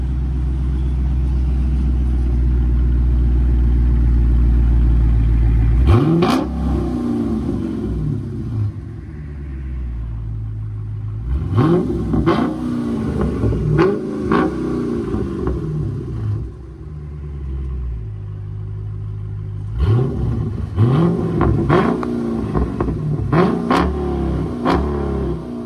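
A 2015 Dodge Charger SRT 392 with the mid muffler deleted, a deep, loud exhaust rumble at idle broken by three bursts of hard revving, close by and without talk.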